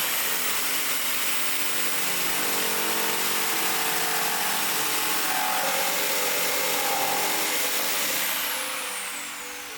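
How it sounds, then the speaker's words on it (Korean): A jigsaw cutting through a wooden louver wall panel, a loud continuous buzzing saw whine that holds steady for several seconds, rises slightly in pitch, then fades as the cut ends. "직소로 도려내어 줍니다"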